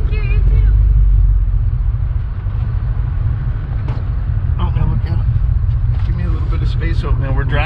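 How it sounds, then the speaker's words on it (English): Steady low rumble of an SUV driving along a road in the San Bernardino National Forest, continuous and fairly loud throughout, with a person talking over the engine and road noise. "we're driving now"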